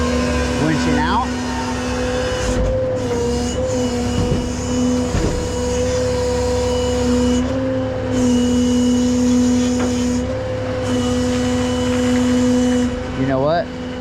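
A rollback flatbed tow truck's winch pulling a car trailer up onto the bed: a steady mechanical drone with a sustained tonal whine that shifts slightly in pitch, continuous and close.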